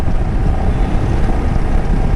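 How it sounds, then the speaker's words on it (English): Wind buffets a helmet-mounted GoPro while riding at speed, a loud, continuous roaring rush that fills the whole clip with no voice over it. "some kind of noise should be there, I believe, because of the wind"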